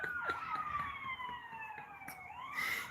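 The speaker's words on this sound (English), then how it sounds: "You hear the sirens?" Emergency vehicle sirens wail outdoors at moderate distance, with a steady sweeping tone over low traffic rumble and no talking.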